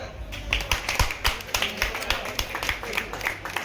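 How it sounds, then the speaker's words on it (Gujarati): Applause for the trophy presenter at the Shri Ram Cup cricket final, a steady run of crisp claps from a small crowd, loud and close with a regular rhythm. "જિગ્નેશભાઈ માટે તાળી."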